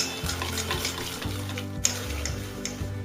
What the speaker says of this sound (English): Beat this well until light and fluffy. Add in the condensed milk. Beat this well for another 3 to 5 minutes.